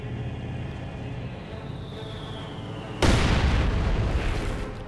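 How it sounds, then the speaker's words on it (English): Heavy mortar fire in a real-time strategy war game: a loud, broad explosion bursts in at about three seconds over a steady rumbling battle backdrop, then slowly decays. "More heavy mortar fire."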